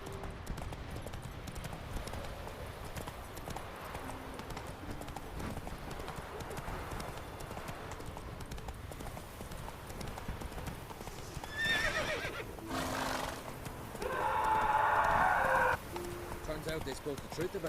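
Roach, the horse in The Witcher 3, moves along with steady hoof clip-clops, a short whinny rising near the end over a continuous background bed of game ambience.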